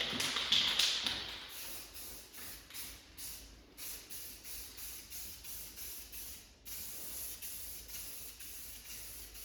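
Matte black spray paint misted onto Galaxian arcade cabinet parts in a series of short, quiet hissing bursts with brief pauses between passes, no voices.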